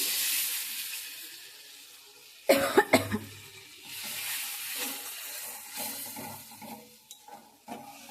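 A person coughs a few times in a quick cluster, close and sharp, over a faint kitchen sizzle from a mustard fish curry cooking nearby.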